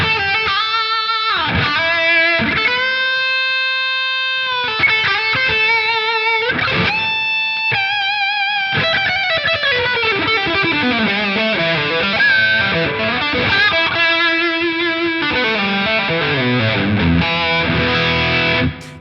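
An electric guitar runs through a Line 6 Helix overdrive/distortion model, playing sustained distorted chords and bending single notes that ring out loudly and continuously, with short pauses between phrases.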